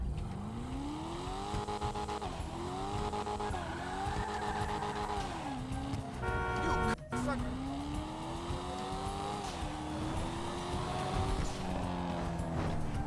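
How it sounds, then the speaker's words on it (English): Invetero Coquette D1 in GTA Online with a continuous loud engine note, rising and falling through repeated revs and gear changes, with tire squeal and skidding mixed in. "we're gonna do a sound test and a full review on the car"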